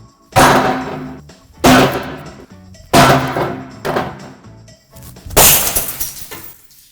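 A glass bottle is smashed against a table four times in a row, each one a loud, close crash with shattering glass that rings and trails off before the next blow.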